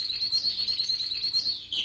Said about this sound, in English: In its cage, the yellow canary sang happily